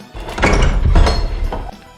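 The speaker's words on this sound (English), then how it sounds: "Another soldier slammed the door of the kobolds' room shut." Sound effect of a door slammed shut during a fantasy tabletop game: a loud, heavy thud with rattling impacts that die away over about two seconds.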